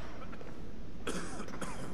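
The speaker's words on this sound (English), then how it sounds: "Don't cough on me." A character coughs in a cave-like skooma den in the video game Skyrim, two short rough bursts about half a second apart, close and moderately loud over a low ambient hum.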